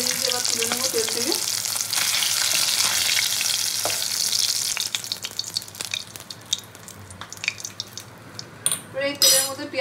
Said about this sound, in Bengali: মাছগুলো আমি উল্টো পাল্টে ভেজে নেবো, মাছগুলো আমি লাল লাল করে ভেজে নিয়েছি